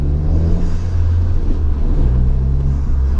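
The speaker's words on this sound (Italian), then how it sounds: "Solamente per sentire lo sbuffo della pop-up." A MINI Cooper S R56 engine rumbles close by, a steady deep drone with slight revving swells and no voices over it.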